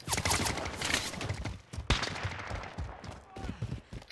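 Bursts of gunfire crack through a Call of Duty: Warzone quads match, fairly quiet and distant, with one sharp nearer shot midway amid scattered shots and game ambience.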